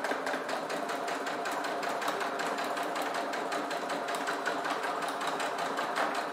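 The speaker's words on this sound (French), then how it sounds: "on va faire une couture au point droit à 5 mm du bord" Domestic sewing machine sewing a straight stitch 5 mm from the fabric edge, a fast, steady, even mechanical rattle running continuously at close range with no talk.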